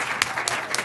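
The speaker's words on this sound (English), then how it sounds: "Can we have a round of applause for our wonderful panelists?" Short burst of audience applause closing a professional continuing-legal-education panel, steady dense clapping across the whole moment with a few sharper claps standing out.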